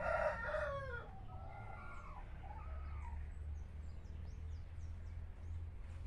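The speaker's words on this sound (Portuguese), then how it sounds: "Olha lá o galinheiro. Parece que tem uma galinha fora." Chickens near a henhouse give a loud burst of crowing and clucking in the first second, followed by softer scattered clucks and calls over a low background hum.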